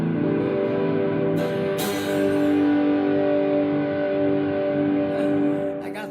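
An electric guitar played through a distortion effect rings out in sustained, fuzzy chords with a thick buzzing tone, loud and steady, with a couple of brief scraping noises partway through.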